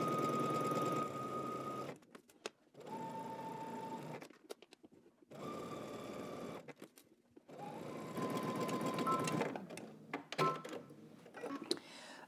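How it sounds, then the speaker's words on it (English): A sewing machine runs in several bursts of rapid, steady stitching, separated by short pauses and small clicks, close and fairly quiet. "we're gonna take them both to the sewing machine and we're gonna stitch these together"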